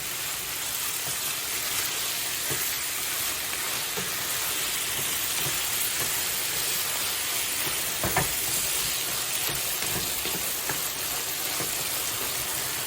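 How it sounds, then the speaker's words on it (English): Brown gravy being stirred into a pan of shepherd's pie filling with carrots, a steady sizzling hiss with scattered soft scrapes of the spoon against the pan, constant and fairly loud with no talking. "And then I'm going to add my brown gravy. Give it a good stir."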